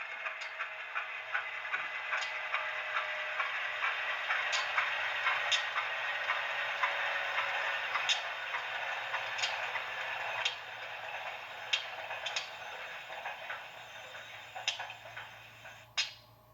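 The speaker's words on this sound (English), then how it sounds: "F8 turns the prime mover sounds off and on" An HO scale Rivarossi U25C model locomotive with ESU Loksound DCC sound winding down its prime mover, a steady mechanical hum with regular ticking clicks that carries on for a while and then stops near the end, no voices.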